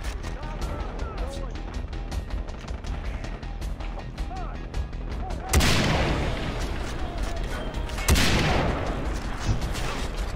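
Gunfire and heavy blasts in the video game Far Cry 3, with two loud bursts standing out over a dense, continuous backdrop of shots and game noise while a voice talks.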